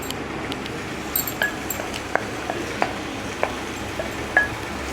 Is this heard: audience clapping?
no